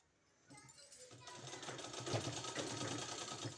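A sewing machine stitching a kurti neck design starts up after a short pause and runs in a steady, close mechanical whirr with a rapid needle rhythm.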